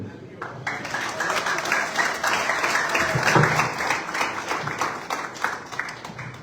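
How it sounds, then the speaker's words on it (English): Audience applause at an event at the Embassy of Zimbabwe in Namibia, a sustained wash of clapping from a room of people with some voices mixed in. "A round of applause."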